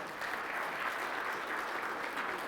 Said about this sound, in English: Let's give Pam another round of applause here.